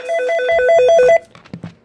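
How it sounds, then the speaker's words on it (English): Office telephone ringing close by in a rapid repeating electronic trill for about a second, then cut off, followed by a few soft handling clicks and bumps. "The phone."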